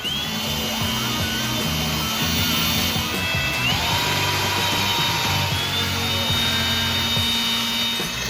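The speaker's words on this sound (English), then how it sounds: "Then I'm gonna take a larger bit and try to drill the head off the rivet." A steady, loud whine of a power drill biting into metal, drilling the head off a rivet on a 1928–29 Ford Model A subrail, running continuously with shifting pitch as the bit grinds through.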